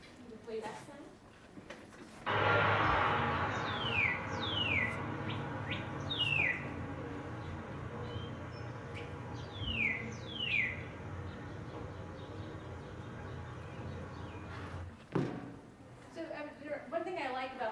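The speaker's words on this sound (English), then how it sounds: "One thing I like about the cardinal song is it sounds like going down a slide to me." Clear cardinal song: a series of loud, downward-slurred whistles repeated in short runs over a steady background hum.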